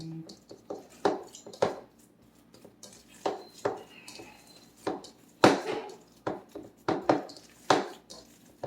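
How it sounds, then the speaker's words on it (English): Ground turkey burger meat is worked by hand with Italian seasoning, giving soft wet squishes and dull thumps in an irregular rhythm, close and fairly quiet, with no talking. "Okay, so now we're going to mix that in."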